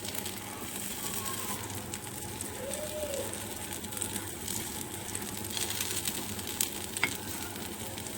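Poppy seed fritters (posto bora) frying in a small amount of oil, a steady close sizzle with crackling that continues evenly throughout, with no speech.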